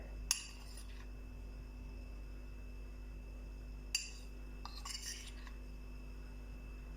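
A spoon clinks sharply against a container while tablespoons of ginger powder go in, two or three bright metallic taps spread apart over a quiet, humming background.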